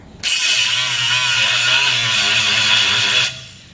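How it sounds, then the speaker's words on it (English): A bolt ground down with a power grinder gives a loud, steady, harsh whine. It starts abruptly, runs for about three seconds without a break, then cuts off. "I'm going to just grind this bolt down"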